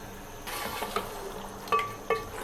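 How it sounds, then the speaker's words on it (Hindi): Mutton frying with spices in a pot gives a soft, steady sizzle while a utensil stirs and scrapes, with a few sharp metallic clinks against the pot. "ये सब चीज़ें साथ ही डाल के अब हम गोश्त को फ्राई करेंगे।"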